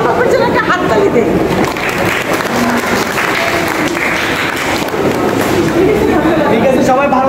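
Audience applause for Sombhob, with dense continuous clapping from a crowd mixed with chatter, loud and sustained throughout.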